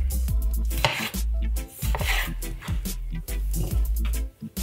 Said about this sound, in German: Die Tomaten werden einfach klein geschnitten, das Grüne gegebenenfalls entfernt.